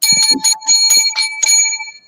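Seven small lucky bells jingle in a quick irregular series of bright metallic strikes, each ringing on with a sustained shimmering tone, loud and close.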